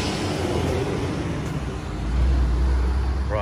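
Engine of a full replica Toyota AE86 idles and rumbles at close range, a steady low hum rising slightly in the last second, with no talk over it.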